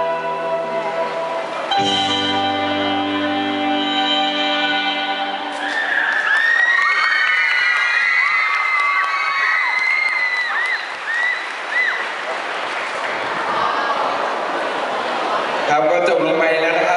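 A crowd at a dance team performance claps and cheers loudly and continuously, with whoops and high shouts rising over music that fades out early, while an announcer talks over it.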